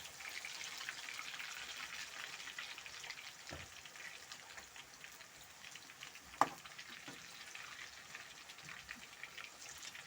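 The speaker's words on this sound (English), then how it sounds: "We are deep frying our potatoes, and they are very big in size." Large potatoes deep frying in hot oil over a traditional cooking fire, a faint, steady hiss and crackle throughout with one sharp pop midway.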